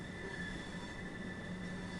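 Train wheels squealing on the New Haven to Brighton East Coastway line as a train coasts into a station in Train Sim World 2. The sustained high metallic squeal holds steady over a constant rolling rumble.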